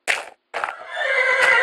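A horse neighs in Minecraft: a short whinny, a brief pause, then a longer, loud, close whinny with a rising, wavering tone, heard alone.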